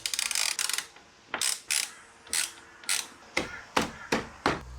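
A ratchet wrench tightening front lip bolts on an Audi S3, clicking in quick bursts of rapid pawl ticks, about eight short runs separated by pauses, close and fairly loud.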